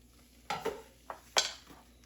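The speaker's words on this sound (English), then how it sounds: "I have been stirring these like every couple of minutes, just making sure nothing gets caught on the bottom" Grits being stirred in a pot, a few soft spoon scrapes and taps against the pot, quiet and close, with no talking.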